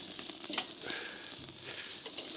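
Lamb chops sizzle on a grill as they brown, a steady, close, crackling hiss that runs through the whole moment with no voices over it.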